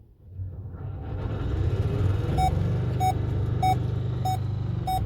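Burnout in a Volvo V50 converted to a Tesla Model 3 drive unit: a steady low electric-motor rumble and tyre roar builds and holds, with a repeating electronic warning beep chiming about every half second throughout.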